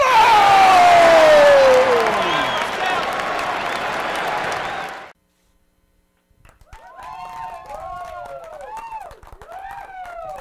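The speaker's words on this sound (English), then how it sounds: "Wow, I've never got so much applause before" A studio audience on a variety show cheers and applauds loudly as the host is introduced, with whoops and a swooping tone. The din cuts off abruptly to silence, then quieter tonal sounds follow.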